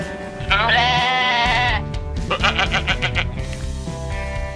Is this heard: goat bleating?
yes